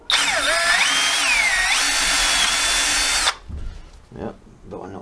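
SDS hammer drill boring an 8mm hole in wood, a loud whining motor that rises and dips in pitch for about three seconds before cutting off, followed by quieter handling knocks and a brief voice.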